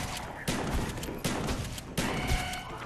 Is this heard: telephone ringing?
no